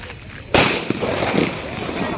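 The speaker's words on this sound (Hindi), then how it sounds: "एबे आमे चॉकलेट बम फुटाऊँ" A chocolate bomb firecracker goes off during Diwali with one sudden loud bang, followed by a brief rumbling echo and faint background noise.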